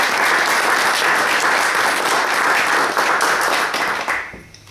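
Dense, steady audience applause at a poetry book presentation in a chapel hall, loud and continuous before fading out in the final half-second.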